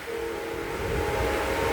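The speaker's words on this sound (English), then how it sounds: "I will always love the trains coming down here." A train rolls past near Lake Accotink, its steady rumble and a sustained horn-like tone building slightly louder across the stretch.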